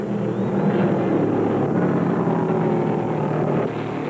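A pack of 1975 NASCAR Winston Cup stock cars races at the Carolina 500, their engines blending into a steady, loud, broadband roar that holds without a break, with no voices.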